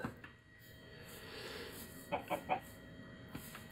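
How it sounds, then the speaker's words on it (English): Chickens in the video game Minecraft cluck in a quick run of three or four short calls midway, moderately loud over a soft background hum, with no talk. "And lots and lots of chickens."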